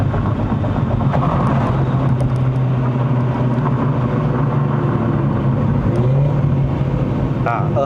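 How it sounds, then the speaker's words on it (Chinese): A 2015-era W205 Mercedes-Benz C180 AMG Line drones loudly from inside the cabin with a window open during a test drive, its engine note rising and shifting steadily through a downshift. "听一下这辆车声浪"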